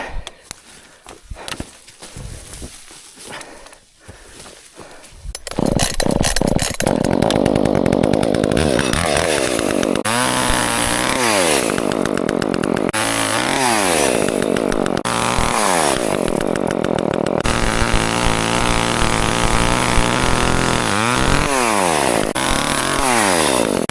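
Chainsaw cutting through uprooted tree roots and wood on a farm, starting after a few seconds of quieter rustling and then running loud and steady, with the engine pitch rising and falling repeatedly as it bites into the wood.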